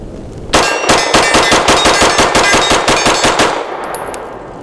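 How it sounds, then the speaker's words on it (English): A BUL Armory Axe C Tomahawk pistol fires rapidly at a target, a fast even string of about twenty loud, sharp shots with ringing metallic clangs, then the echo fades into quiet. "I'm just gonna burn it down because we're looking to see how the gun and magazine interact"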